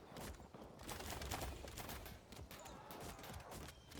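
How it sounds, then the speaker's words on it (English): Cannon fire in the medieval strategy game Field of Glory II Medieval, a dense run of booming shots and crashing impacts layered over battle noise, steady and loud throughout. "And some cannon fire."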